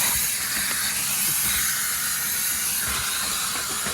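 Steam cleaner hissing across a floor during mould cleaning, a steady loud hiss with irregular clicks and knocks from the tool moving over the surface, nearby and without talk.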